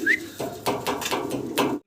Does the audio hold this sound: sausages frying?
no